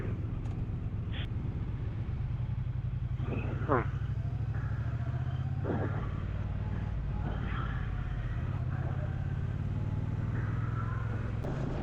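An Indian Scout motorcycle engine idles steadily with a low, even rumble, while people talk nearby over it.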